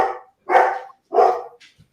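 A dog barks twice in loud, close bursts about half a second apart, each preceded by a shorter, softer bark at the start and trailing off into faint small noises.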